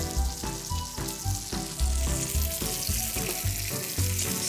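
Pistachios sautéing quickly in melted butter over low heat, a continuous soft sizzle beneath rhythmic background music with a pulsing beat.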